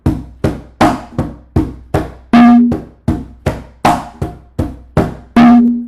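A Latin charanga pattern on hand drums, a steady run of sharp muted slaps and taps with one ringing open tone recurring in each cycle, loud, close and solo.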